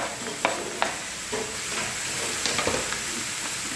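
Mushrooms and potato sizzle and fry steadily in a pan, with occasional scraping stirs of a utensil close by, no talking.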